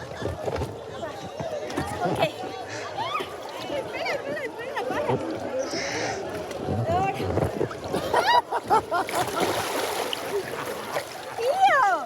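Canoes and makeshift rafts capsize during a local festival race, with splashing in cold water mixed into busy shouting voices and crowd noise, water sounds rising in bursts toward the end.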